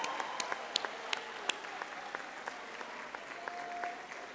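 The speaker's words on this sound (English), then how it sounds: "So let's give them a big round of applause to our family and friends, supporters and guardians" Graduation audience at the Durban University of Technology autumn ceremony applauding, a sustained patter of many hands with sharp individual claps standing out, heard from a distance in a large hall.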